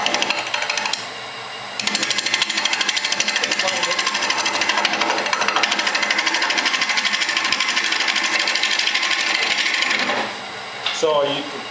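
Woodturning tool cutting wood on a spinning lathe, heard as a loud continuous buzzing chatter with a fast rhythmic texture, pausing briefly and then resuming, with people talking in the workshop.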